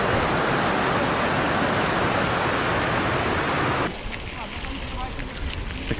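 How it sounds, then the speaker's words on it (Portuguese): A waterfall roars as a loud, steady broadband wash along a trail near Freamundo, then drops abruptly to a softer, more distant rush that continues to the end. "Esta cascata linda!"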